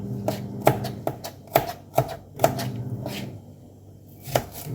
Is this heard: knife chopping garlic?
yes